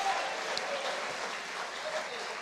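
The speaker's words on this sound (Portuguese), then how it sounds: "Pode aplaudir ao Senhor." Church congregation applauding during a worship service, a steady wash of clapping that holds at an even level for the whole moment.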